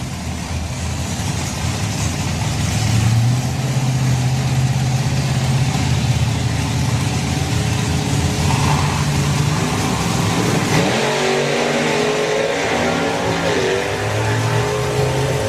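An Outlaw Anglia drag racing car launches down the strip at the Hot Rod Drags, with a loud engine roar that rises in pitch as it accelerates hard, against a background of other idling engines.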